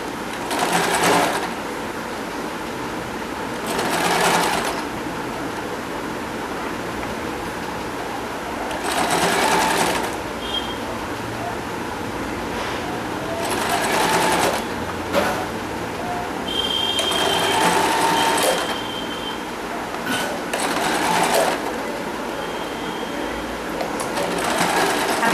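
A sewing machine stitches a thick folded dhoti for a Shri Krishna or Shri Ram deity idol in repeated whirring bursts of a second or two, separated by short pauses, with no talking.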